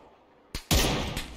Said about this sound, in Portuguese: Tá atirando em mim, tem mais tiro pra mim, parece.